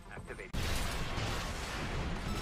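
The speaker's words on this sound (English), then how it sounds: "He's got a machine gun." Rapid machine gun fire in a video game arena fight, a dense, loud burst of continuous shooting that erupts suddenly after a brief moment of quieter sound and keeps going without pause.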